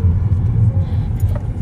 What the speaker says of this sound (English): we're driving down South Mountain